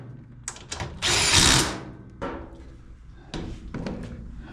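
A power drill runs a bolt into a Craftsman CTX9000 (Snapper) mower deck during repair, with one long whirring burst in the middle and shorter clicks and clunks of hand work before and after, close by.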